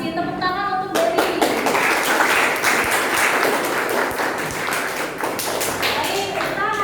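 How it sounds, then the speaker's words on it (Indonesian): Classmates applaud a student in a classroom, a dense burst of close hand clapping with some thumps that starts right after a teacher speaks and continues steadily. "Tepuk tangan untuk Dery."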